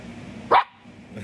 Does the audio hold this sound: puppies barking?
yes